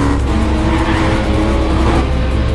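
Film car chase in which a hitman pursues James, with a loud continuous engine roar and tire noise filling the scene, no talk.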